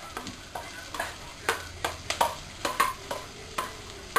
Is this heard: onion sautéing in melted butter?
yes